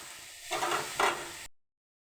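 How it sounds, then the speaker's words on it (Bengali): Fish frying in oil in a wok produce a quiet sizzle that swells in two short bursts as they are stirred or turned, then the sound cuts to silence. "এই মাছগুলো ভাজতে একটু টাইম লাগে, একটু সময় নিয়ে ভেজে নেব মাছগুলোকে।"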